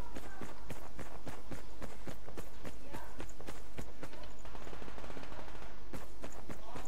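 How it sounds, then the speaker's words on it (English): Rapid, evenly spaced gunshots from Survarium, a steady automatic rhythm of sharp cracks continuing for several seconds at moderate loudness. "we're gonna have to shoot that guy up in the corner"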